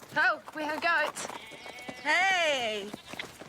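Goats bleating at close range on an Australian farm, several wavering calls in short bursts and one long drawn-out bleat, loud and clear with voices nearby.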